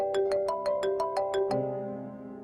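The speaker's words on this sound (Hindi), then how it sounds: "किसका फोन है?" A mobile phone ringtone plays at home, a bright repeating electronic melody of eight quick beeps that then shifts to a sustained fading tone, clear and alone.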